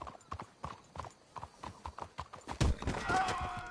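Horse hooves clip-clopping in a steady, close rhythm on a trail in Red Dead Redemption 2, ending in a louder burst of movement with a horse whinny and rustling at the close.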